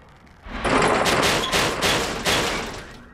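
Rapid gunfire in Resident Evil 6 rattles out as a loud, sustained burst of shots lasting a few seconds, with several sharper cracks punching through the dense volley.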